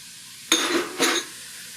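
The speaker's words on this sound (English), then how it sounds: "Stir that around a little bit, break that up." Ground meat stirred and broken up in a pan for mabo nasu, two short loud scraping strokes of a utensil against the pan over a faint background hiss.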